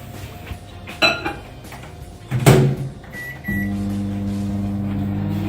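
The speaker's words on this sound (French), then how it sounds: "Et on va le faire fondre une petite minute au micro-ondes." A microwave oven is started and hums steadily while melting butter and chocolate, preceded by kitchen clatter, a door closing and a couple of beeps.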